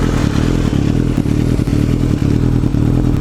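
Suzuki GSX-R 1000 K5 motorcycle fitted with a Yoshimura exhaust, idling with a steady, loud low rumble and a few slight blips of revving, close by and with no talking.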